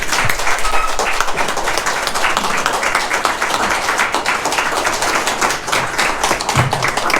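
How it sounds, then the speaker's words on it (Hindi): Dense, continuous clapping from a standing audience welcoming a speaker onto the stage at an event in Nagpur, loud and close, with many hands blending into a steady roar. "आप खड़े होके उनका एक वेलकम करेंगे हम ताली के साथ"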